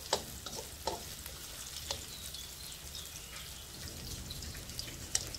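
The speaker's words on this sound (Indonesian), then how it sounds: "Oke, ini kita tumis dulu." Young papaya being stir-fried in a pan, a soft steady sizzle with occasional clinks and scrapes of the spatula, fairly quiet and with no talking.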